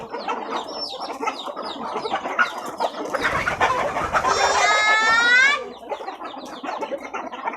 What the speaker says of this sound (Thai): ไก่เยอะนะครับ ไก่สเปนนะครับ